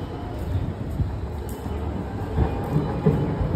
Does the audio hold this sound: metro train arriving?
yes